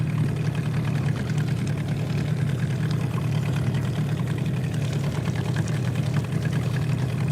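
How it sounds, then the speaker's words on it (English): Small boat outboard motor chugging steadily on a river, close and loud, a continuous low idling drone with an even throb and no talk. "I'm right next to this motor, chugging along"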